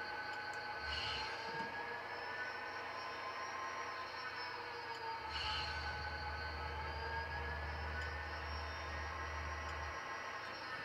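A model train locomotive controlled by a Digitrax UT6D throttle hums steadily with a faint whine, quiet and close, with a low motor drone swelling during the second half.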